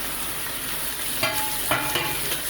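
Chopped tomatoes tossed into mutton biryani masala frying in a pan, a steady sizzle with two sharp bursts of stirring and spattering, close by and with no voices.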